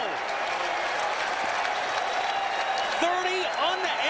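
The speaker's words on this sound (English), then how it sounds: "Even the fans are cheering now" Baseball fans in the stands at a Rangers–Orioles game in Baltimore cheer and applaud steadily, a dense continuous roar with scattered whistles and shouts rising near the end.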